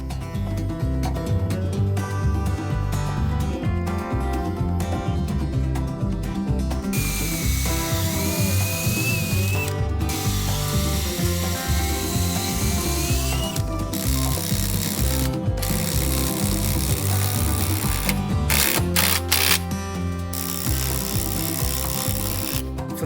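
A drill grinds and rattles through stainless steel chainplates on a wooden sailboat, continuously, with a high whine rising and falling midway and brief pauses in the churning.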